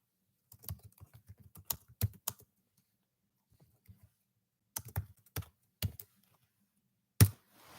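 Typing on a computer keyboard: close, crisp key clicks in quick uneven bursts, separated by quiet pauses, ending with one louder tap.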